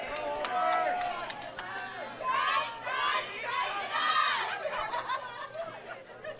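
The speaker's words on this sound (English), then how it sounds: "The girls emphatically cheer" Girls on a high school bowling team cheer and shriek excitedly at the Indiana state finals. Bursts of bright, overlapping voices and laughter rise and fall close by in a busy bowling alley.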